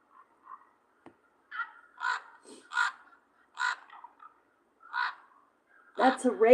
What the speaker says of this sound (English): That's a raven.